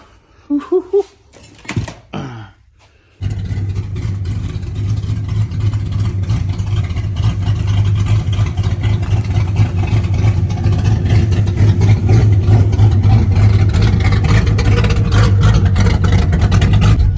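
A Ford Mustang Fox Body engine idles with a steady, loud rumble after starting up. It begins about three seconds in, following a few brief knocks and bumps, and keeps running evenly to the end.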